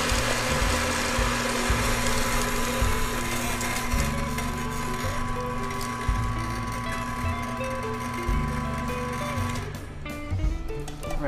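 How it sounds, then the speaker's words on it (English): A burr coffee grinder runs continuously, grinding leftover coffee out of the burrs and dosing chamber into a pitcher, a steady loud motor whine with a sustained hum that changes pitch near the end as it empties. "we just want to grind those out into a pitcher"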